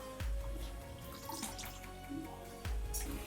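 Rice going into a pot of boiling water, heard as a few soft splashing thuds over a bubbling, watery background, close and fairly quiet.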